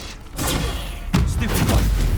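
Hogwarts Legacy Bombarda spell blasts land as two heavy, booming explosions in quick succession, loud and close with a rumbling tail.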